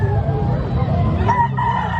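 A gamecock crows loudly and close at a poultry expo in Carbon Public Market, Cebu City, one drawn-out call with a low rumbling background and no talking.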